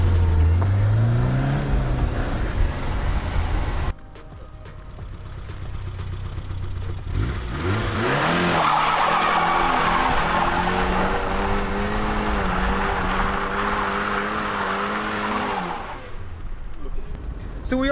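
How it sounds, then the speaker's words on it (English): A 1987 BMW E30 engine revs hard as the car attempts a drift, rising and falling wails with tire noise, a brief cut, then a long sustained high-rev pull before easing off, with some talk around it. "I was surprised it actually did a little bit of a burnout or a drift"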